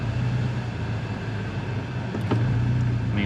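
A 2013 Scion tC engine with economy throttle tuning, a steady low drone that barely climbs in pitch as the throttle is pressed, heard from inside the car and fairly loud.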